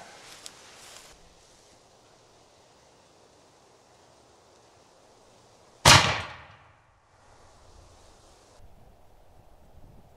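A bamboo handgonne loaded with 120 grains of FFF GOEX black powder and nine 00 buckshot pellets fires one loud, sharp blast that dies away quickly. Light outdoor wind noise can be heard before and after.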